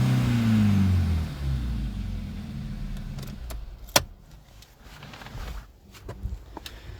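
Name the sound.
Volkswagen Polo GTI 1.4 TSI engine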